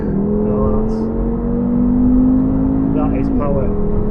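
An APR stage 1 tuned Audi S5 accelerating hard, heard from inside the cabin as a loud, steady engine drone that rises in pitch, with a voice briefly over it.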